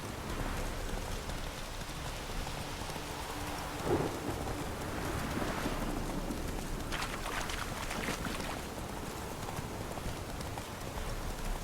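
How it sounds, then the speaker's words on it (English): Thunder and rain in The Witcher 3 video game: steady rain hisses throughout, a low thunder rumble rolls in midway, and some faint hoof-like clopping sits in the background, with no speech. "Lightning strike?"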